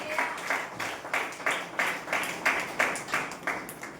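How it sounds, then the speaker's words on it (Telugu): A congregation at a fasting prayer meeting in Kakinada claps together in a steady, loud rhythm of about two claps per second, sustained throughout. "కొట్టాలి చప్పట్లు గట్టిగా వస్తాం"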